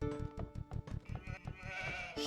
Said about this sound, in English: A few more sheep.